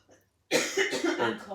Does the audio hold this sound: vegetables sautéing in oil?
no